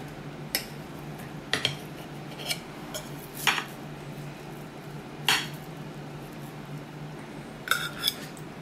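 Utensil clinks against a plate while a slice of pan-fried keto cheesecake is cut, several sharp taps and scrapes spaced out over quiet background.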